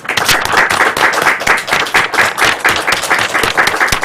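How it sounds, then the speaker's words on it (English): Loud, sustained applause from an audience at a Toastmasters club meeting, many hands clapping densely and steadily with no voices over it. "And we always clap to give them the energy to get up here."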